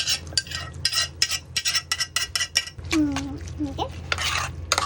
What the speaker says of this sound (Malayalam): ബീഫ് ഇതിലോട്ട് ആഡ് ചെയ്ത് വെക്കുന്നുണ്ട്.